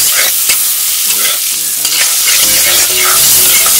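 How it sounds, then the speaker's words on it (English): Small cabbages sauteing in butter in a pan, a loud close sizzle with stirring clicks and scrapes, continuous throughout with no voices. "you're just going to saute the little cabbages"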